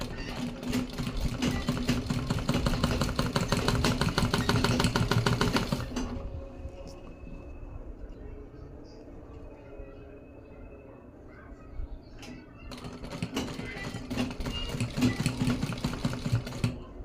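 Electric sewing machine stitching a small baby dress, a fast steady rattling whir that runs for about six seconds, stops during a quiet pause, then starts again near the end, close and moderately loud.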